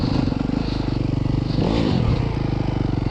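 A new 2024 Yamaha YZ250FX dirt bike being ridden gently during break-in, its engine puttering in a steady rapid pulse with a brief rev swell around the middle, close and loud with no talk.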